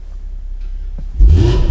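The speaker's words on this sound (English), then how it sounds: "Listen to the exhaust." BMW M240i fitted with a downpipe, its exhaust swelling from a quiet idle into a loud, deep rev in the final half second.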